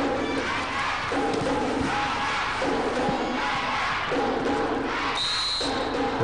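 Volleyball fans in an arena during a women's club match chant and cheer in rhythmic bursts, a crowd roar rising and falling with drumming thuds underneath.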